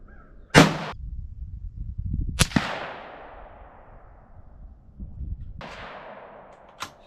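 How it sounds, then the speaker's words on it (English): Sharp gunshots from a Bergara BMR .17 HMR rifle during target practice, four cracks spread unevenly over several seconds, each leaving a long fading outdoor echo. "we're just shooting for groups. We're not shooting for bullseyes for right now"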